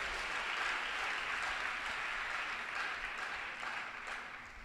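A church congregation applauding at a sermon, a dense, even wash of clapping that holds steady and then slowly thins toward the end, with no voice over it.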